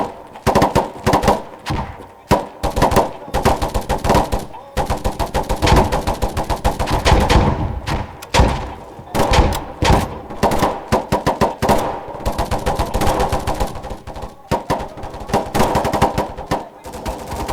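Loud, rapid bursts of automatic gunfire from a shooter video game, firing in repeated volleys with brief pauses throughout.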